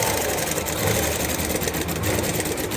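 A sewing machine stitches blouse fabric in a steady, fast, continuous whirring drone that stays loud and close from start to finish.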